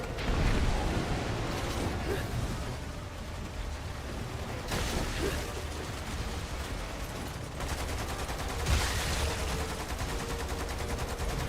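Rapid gunfire crackles from little dummy turrets dropped like grenades in a video game, steady and dense throughout with bursts of sharper shots near the start, middle and end, no talk over it.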